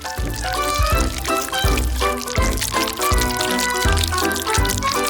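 Liquid is poured onto spaghetti with a steady, close splashing pour running for several seconds over music-like tonal background.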